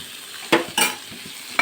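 Tomato and potato pieces are stirred in a frying pan, with two sharp scrapes over a low background sizzle and a brief clatter at the end, no voices.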